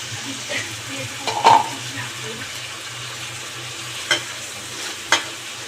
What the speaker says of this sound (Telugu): ఆయిల్ వచ్చేసింది అల్లం వెల్లుల్లి పేస్ట్ వేసేసుకుందాం